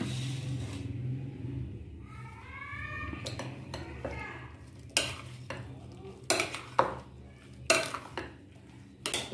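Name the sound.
mixing beaten cream into fruit chaat with a spoon in a bowl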